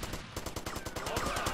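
Rapid automatic gunfire from GTA Vice City Definitive Edition, a steady string of about a dozen evenly spaced shots in quick succession, close and sharp.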